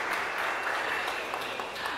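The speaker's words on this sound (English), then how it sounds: "Go ahead and clap. I know you want to." Steady applause from a crowd, a dense wash of clapping that holds at an even level for a couple of seconds.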